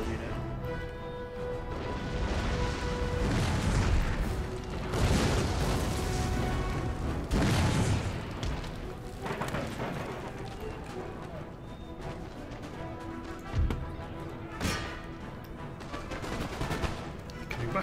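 Cannon and musket volleys in the Napoleonic-era battle game Empire: Total War crackle and boom at a distance, with scattered thumps and rolling gunfire under battle ambience, plus a few sharper reports late on.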